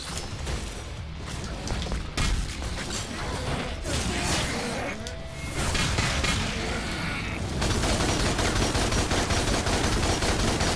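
Rapid loud gunfire from the DmC: Devil May Cry Definitive Edition action game, dense bursts of shots layered over combat noise and music, growing busier and louder toward the end.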